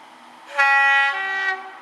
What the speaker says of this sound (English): That's definitely another train.